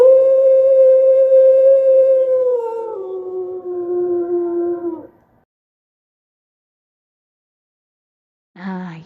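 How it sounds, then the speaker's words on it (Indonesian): A single wolf howls in a long, sustained, tonal wail that slowly drops in pitch and fades out, followed by silence and a brief closing sound. "itu tadi adalah bunyi lolongan serigala"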